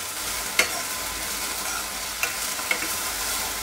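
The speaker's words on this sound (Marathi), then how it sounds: "आता बघा ह्याला छानपैकी आपण असं 2 मिनिटं भाजून घेऊया छान" Ghevda bean pods roasting in a pan, an even hiss of gentle sizzling with a few isolated sharp clicks as the spatula touches the pan, close and steady with no speech.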